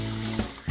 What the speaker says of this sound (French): Tu laisses couler l'eau pour rien?